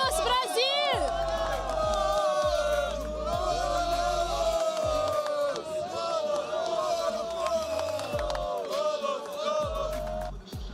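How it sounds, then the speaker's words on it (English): Brazilian fans at a Dota 2 esports event, a large crowd cheering, whooping and shouting in a loud, sustained roar, with voices calling over the din throughout. "We have people cheering here, Brazilians here, everywhere."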